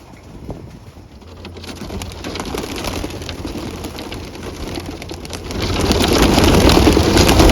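A flock of about 1,100 farm birds pours out through a chute, making a dense, steady rustle of wings and feet that swells louder toward the end, with no talking.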